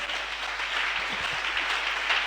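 A worship congregation breaking into applause and acclaim for Jesus, a steady wash of clapping held at an even level with a few low thumps underneath.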